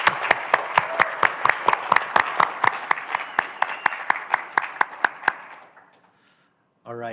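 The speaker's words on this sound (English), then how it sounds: "Let's give Jeanette a round of applause." Applause at a cybersecurity summit plenary: a quick, evenly paced run of sharp claps for about five seconds that fades into near silence before a voice comes in.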